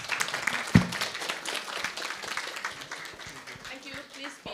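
Church congregation clapping to welcome Pastor Catherine Chan up to preach, an uneven scatter of hands with a sharp thump near the start and voices talking over it.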